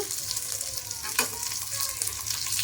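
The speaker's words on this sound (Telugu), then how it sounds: "చూడండి ఏ విధంగా మంచిగా ఫ్రై అయిపోయినాయి కదా" Korameenu fish fry in hot oil Andhra style with a dense, steady sizzle and crackle, close up, and a faint clink of stirring partway through, with no voices.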